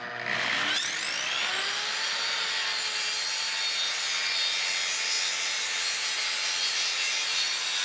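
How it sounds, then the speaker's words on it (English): A hand saw cuts prefinished maple wall panel for a van interior, giving a continuous, steady rasping saw stroke sound close up after a brief start, bright and loud throughout with no talking. "Now I come up here with my saw, 1/2 inch,"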